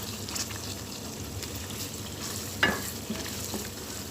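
Softened tomatoes being mashed and stirred in a pan for a spinach chicken curry, soft wet scraping and sizzling with a sharper clink of the utensil partway through.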